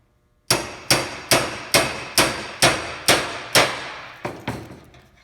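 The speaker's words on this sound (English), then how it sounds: "what we're going to do is pound down these grooves to create more space for us to create a larger taper with the shingle" A hammer strikes a metal roof shingle to flatten its grooves, giving about ten evenly spaced, ringing metallic blows in a steady rhythm, with the last two lighter and quicker.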